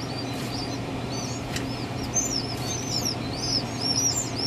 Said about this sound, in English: you'll actually hear them chirp before they're even out of the shell.